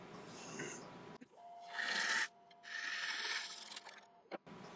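A woodturning gouge takes another pass on a live-edge winged bowl on a wood lathe, giving bursts of rough hissing scrapes with pauses between them, close and moderately loud.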